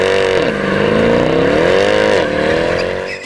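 A Mercedes-AMG M156 6.3-litre V8 revs loudly and close up, its deep rumbling note dipping, then climbing and holding before falling away, with no voices over it.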